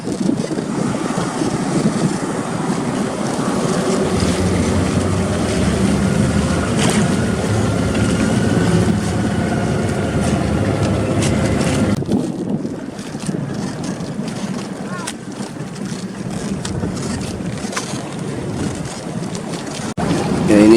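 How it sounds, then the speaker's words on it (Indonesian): A boat bringing guests to a surf spot off Bali, its engine droning steadily amid strong wind buffeting and sea wash; the heavy rumble drops off partway through, leaving wind and water noise. "ini juga ada salah satu kapal lagi datang bawa tamu"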